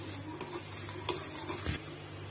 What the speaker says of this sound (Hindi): अब थोड़ा जीरा, इन सारी चीजों को धीमी आंच पे चलाते हुए हम लोगों को रोस्ट कर लेना है।